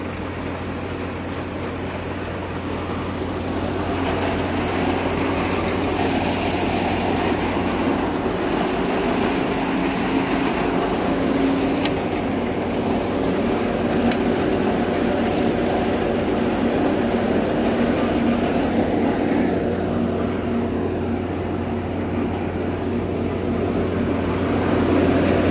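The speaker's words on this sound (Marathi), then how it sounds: "आता हे कंपनी रेसवर आहे, थोडी रेस देऊन आपण." A new Kamdhenu farm machine's engine runs steadily at raised throttle, a loud continuous drone with a humming low tone that swells slightly after the first few seconds and holds without letup.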